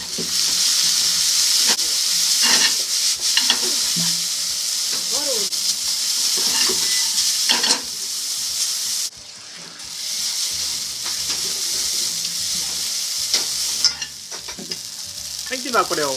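Yakisoba noodles cooked with red cabbage liquid sizzle and crackle in a hot pan while being stirred and tossed, with scraping and clattering strokes throughout, loud and close.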